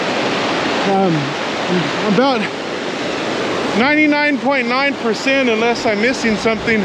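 The Rio Grande rushes where the Red River joins it in the Taos Gorge, a loud, steady broadband roar of flowing water under a voice talking throughout.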